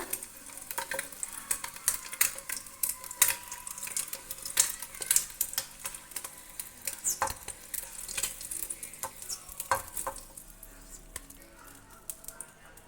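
Eggs frying in a pan with a steady, bright sizzle, punctuated by repeated scrapes and stirring clatter of a spatula; close and fairly loud, with no talk.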